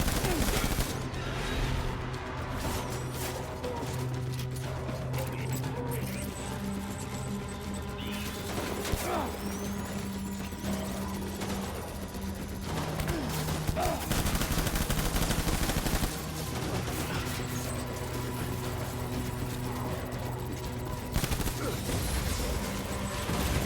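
Sustained gunfire in the video game Death Stranding from a lethal machine gun, dense continuous bursts with crashes and mechanical clatter running throughout at steady loudness, with game voices faintly beneath.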